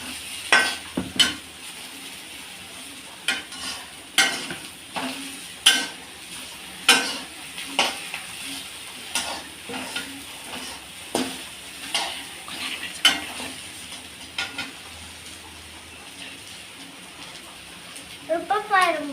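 Okra (ladies finger) sautés in a pan while a utensil stirs it, producing repeated scraping strokes over a soft sizzle at an uneven rhythm, with a few quiet voices.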